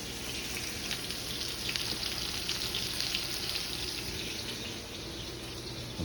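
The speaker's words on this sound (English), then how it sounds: "that butter's going to brown up" Butter and crushed garlic sizzle steadily in a hot pan while a steak is reverse seared, with a dense, even frying hiss running throughout and no voices.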